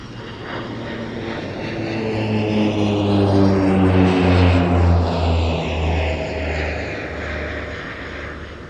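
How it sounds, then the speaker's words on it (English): A French Air Force Alpha Jet display at an airshow roars past, its loud jet engine tone swelling and sweeping in pitch as the aircraft passes close, sustained throughout with no talking. "a really nice Alpha Jet display from the French Air Force"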